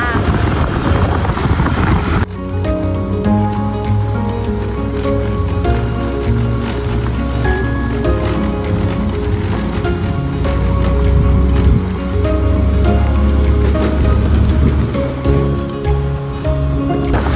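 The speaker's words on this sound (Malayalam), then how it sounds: "അടുത്ത വെള്ളച്ചാട്ടം, കുഞ്ഞു വെള്ളച്ചാട്ടം." A steady, loud rush of a small waterfall in the Ambanad hills fills the whole stretch, with a voice talking faintly underneath.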